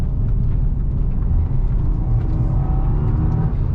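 A 2022 Subaru WRX launching hard from a standstill with traction control on, a loud, continuous engine roar and rumble building steadily over a few seconds from inside the car.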